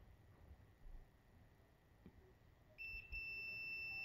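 A multimeter gives a steady, thin continuity beep when its probe touches a wiring pin during a Haltech Elite install on a Genesis Coupe 2.0, starting faintly after quiet shuffling and then holding continuously.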